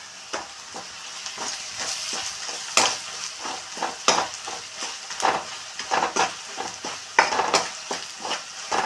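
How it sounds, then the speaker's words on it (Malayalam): Papaya with chili flakes frying in a pan, a steady sizzle broken by frequent sharp scrapes and clacks of a spoon stirring, close and fairly loud throughout. "രണ്ട് സ്പൂൺ ചില്ലി ഫ്ലാക്സ് എടുത്തിട്ടുണ്ട്, അതും കൂടി ഇടുന്നു. നന്നായിട്ടൊന്ന് ഫ്രൈ ആയിട്ടെ."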